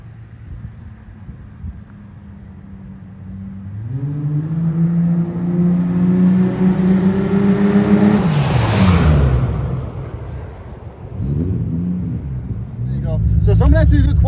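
A 1994 Toyota Supra with a six-speed drives back past, its engine swelling from a low rumble to a loud revving pass with wind noise, then easing off before revving up again. Someone talks briefly during the pass.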